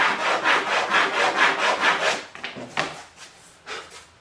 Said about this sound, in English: Cut off the top of this board, make it a little bit smaller.